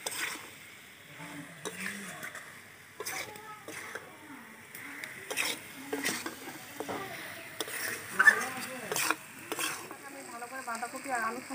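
Fried potatoes and cabbage sizzle and are turned in a pan of cabbage chicken curry: a soft steady frying hiss broken by repeated spatula scrapes and taps, with a voice talking over the cooking.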